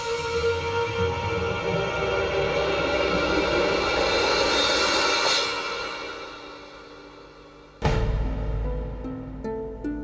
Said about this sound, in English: extra Luftwaffe planes deployed in an attempt to physically destroy the city